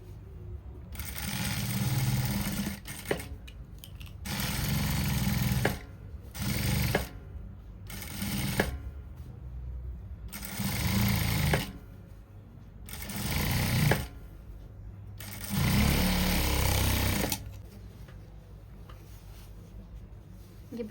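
A sewing machine stitching a strip onto a farshi salwar runs in repeated bursts of a few seconds each. Its loud, close mechanical whir stops and restarts between runs, and there is no talking.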